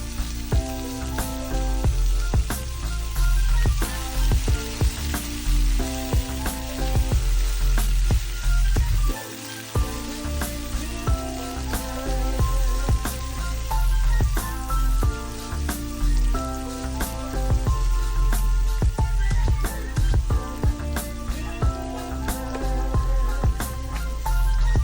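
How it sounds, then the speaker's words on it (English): Green beans stir-fried over high heat in a wok for veg chowmein, a loud continuous sizzle and crackle with frequent metallic clanks and scrapes of tossing, no voices. "Then add beans, stir fry on high heat."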